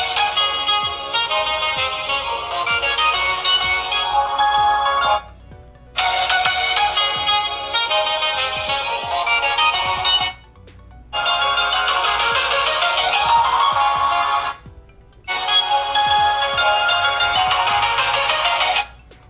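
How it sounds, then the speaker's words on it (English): Music played through the speakers of Redmi Note 9 Pro and 9S phones, bright tinny melodic passages in four segments separated by short near-silent gaps, loud and close with no talking. "Now we're gonna play music and see if there is any difference."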